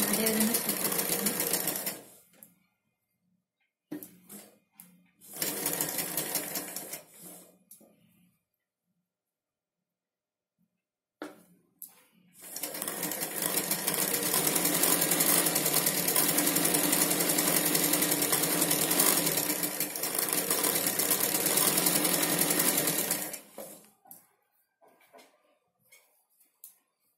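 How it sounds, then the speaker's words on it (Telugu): A sewing machine stitches a Panjabi dress pant in two short bursts followed by one long, steady run of about ten seconds, loud and close, with silent gaps between. "ఇటు సైడ్ కానీ అదే విధంగా స్టిచ్ చేసుకుంటాను."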